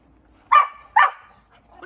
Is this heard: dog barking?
yes